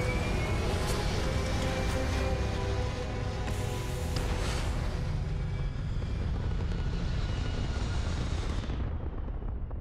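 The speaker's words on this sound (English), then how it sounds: "Engines purring" Spaceship engines in the video game Starfield roar as a steady, loud, broadband rumble during takeoff, holding constant before cutting out near the end.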